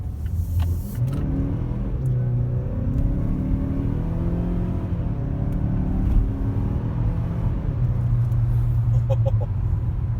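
A 2019 Mazda CX-5 Turbo GT Reserve driving and accelerating, heard from inside as a steady, loud engine drone with rising pitch over constant road rumble and no talk.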